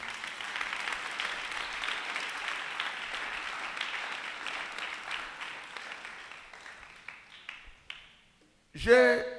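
A church congregation at a Sunday school service claps in sustained, dense applause that slowly fades out, followed by a brief burst of voice and noise at the end.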